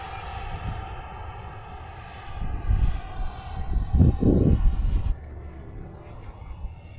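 A model airplane engine at a small flying field on a windy day, a steady distant drone that swells louder as the plane passes, with wind noise throughout.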